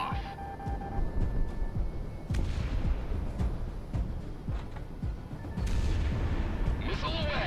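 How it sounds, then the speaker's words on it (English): In the jet combat game Project Wingman, a missile launches amid rumbling engine roar and booming blasts, loud and close, with a player talking over the action. "Missile shot off."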